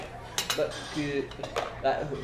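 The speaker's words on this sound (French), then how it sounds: "joue avec ses couverts" Cutlery clinking against plates as a diner fiddles with it at an upscale restaurant table, several light scattered clinks at close range, with faint talk in the background.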